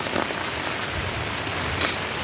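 Rain pours down on a wet day outdoors, a dense, steady hiss of drops with no break, close and fairly loud, no voices.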